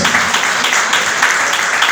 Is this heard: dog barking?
no